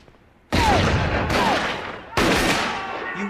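Three heavy gunshots boom in a shootout, each sharp blast followed by a long ringing decay, loud and close with gaps of about a second between shots.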